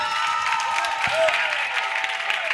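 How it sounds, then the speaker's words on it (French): Loud applause and cheering from a large crowd at a church crusade in Côte d'Ivoire, steady and dense throughout with a voice briefly rising over it. "On acclame le Seigneur"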